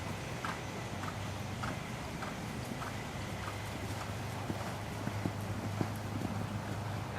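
A horse canters in an arena, its rhythmic hoofbeats thudding faintly at a steady three-beat pace over a low background hum.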